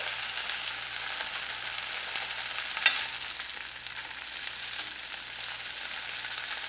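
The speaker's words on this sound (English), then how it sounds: "Just kind of flip them over a few times and cook them a little bit." Egg pieces fry in oil and butter with a steady, bright sizzle, broken by one soft tap as they are turned over.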